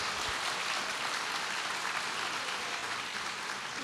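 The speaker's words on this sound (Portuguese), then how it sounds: "Pode aplaudir o Senhor," A church congregation claps together in sustained, fairly quiet applause, a dense even patter that fills the whole stretch with no voices over it.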